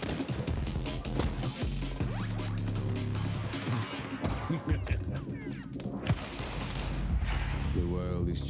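Counter-Strike 2 gunfire during a competitive regional series match, rapid bursts and volleys of shots crashing over one another almost nonstop, loud and close, with players' voices talking underneath.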